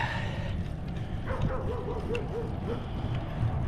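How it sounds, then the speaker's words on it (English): A sheriff's K9 police dog barks in a short run of yelps beside a highway, somewhat distant under steady road and wind rumble. "As the sheriff's K9 barking at me."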